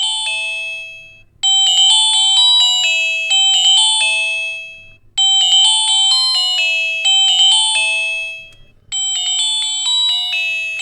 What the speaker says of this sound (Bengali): চলুন দেখি যে রিংটোনের দম কি ছিল।